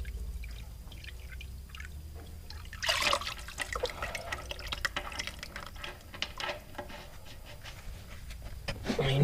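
Water dribbles and splashes from an opened drain plug on a Case 1840 skid steer, a close, steady trickle with irregular drips and a brief louder gush partway through.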